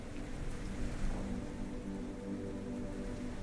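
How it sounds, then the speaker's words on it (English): Steady rain falls on a surface during stormy weather, forming a dense, continuous hiss with a low rumble underneath and no voices. "Let's get maybe some like stormy weather, maybe."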